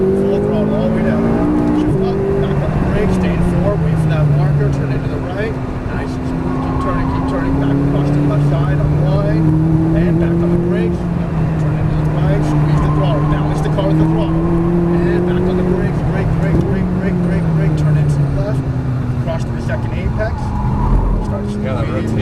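A McLaren 570S engine at full throttle on a race track gives a loud, continuous drone with pitch rising and falling through gear changes, while a person talks steadily over it.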